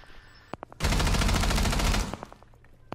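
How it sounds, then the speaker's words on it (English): Gunfire in a video game: one sustained burst of rapid automatic fire lasting just over a second, loud and close, with a few scattered single shots and clicks before and after. "What are you shooting at, Ben?"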